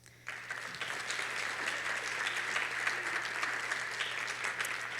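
A hearty round of applause for teachers and staff at a graduation ceremony starts abruptly and carries on steadily, a dense spread of many hands clapping at moderate distance.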